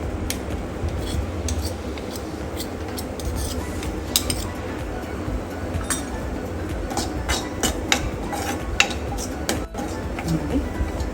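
Wheat being roasted and stirred in a pan for halwa, a steady scraping and clinking of a utensil against the pan with continuous low sizzle, close by and fairly loud throughout.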